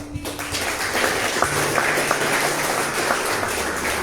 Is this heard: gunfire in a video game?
no